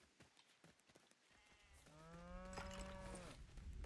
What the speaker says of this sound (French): Il y a des petites vaches.